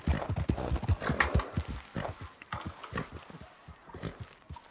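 A horse's hooves clop in a quick, uneven run of loud, close impacts in a Rockstar video game, gradually easing off, with no talking.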